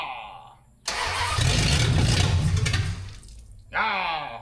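A 1974 Dodge Dart Swinger small-block V8 cranks and catches, roaring loudly up close for about two seconds before dropping off, then cranking again at the end.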